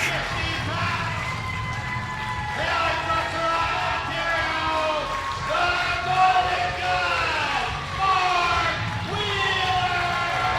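A wrestling crowd cheers as a wrestler enters the ring, a sustained roar with rising and falling shouts under a loud, continuous hubbub that carries for about ten seconds.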